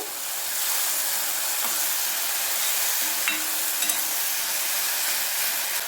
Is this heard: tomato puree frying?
yes